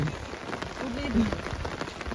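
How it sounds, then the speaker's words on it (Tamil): Rain begins falling in flood-hit Sri Lanka, a soft, steady patter of drops on surfaces with faint background murmur and a brief tonal sound midway. "மழை துவங்கிட்டு வர துவங்கிட்டு பாருங்க பாருங்க"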